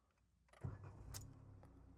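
A car engine starts once partway through, with a short cranking burst that settles into a low, steady idle close by, in a quiet interior with no talk.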